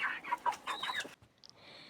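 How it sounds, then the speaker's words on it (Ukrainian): A rooster sick with dropsy gives several close, short clucking calls in quick succession over about a second, then falls quiet apart from faint background noise. "Оцей півник хворий на водянку"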